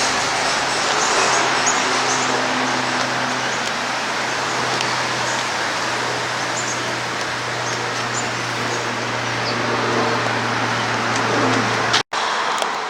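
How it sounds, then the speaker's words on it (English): Steady traffic on a busy main road beside a front garden, a continuous broad roar of passing vehicles with a low engine hum underneath, fairly loud and unbroken, with a brief drop near the end. "I do apologise for the sound of traffic"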